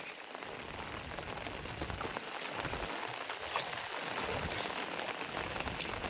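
Heavy monsoon rain pours steadily on a rice planting field in the Konkan, a dense, continuous hiss of drops striking water and ground, close and unbroken for the whole stretch.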